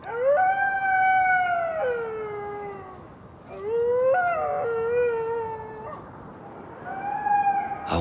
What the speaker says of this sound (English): It's time for her to call out to other wolves.